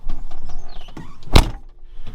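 A tractor cab door on a new gas ram swings open with a short mechanical whir, then a single sharp thunk as it latches, close and loud against faint background noise.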